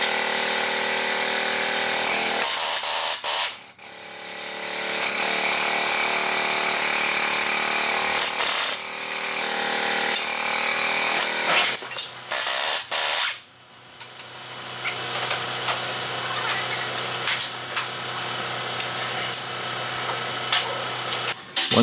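A power tool spins off the five 24mm nuts on the caliper adapter of a Dana S111 axle on a Ram, a loud continuous whir broken by brief pauses between nuts, running through nearly the whole stretch.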